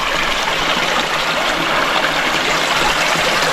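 The stream of the Busilac waterfalls flows in a steady, close, broadband rush, now with a weak flow. It continues evenly and alone, with no talking.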